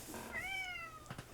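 A single drawn-out cat meow, close and fairly clear, rising then falling in pitch, followed by a brief faint rustle, with no talking.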